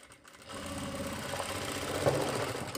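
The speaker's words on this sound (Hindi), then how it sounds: "अब यहाँ पे हम लगाएंगे एक सिलाई" A sewing machine stitches an elastic-back pant, its fast even motor whir starting after a brief pause and running steadily close by.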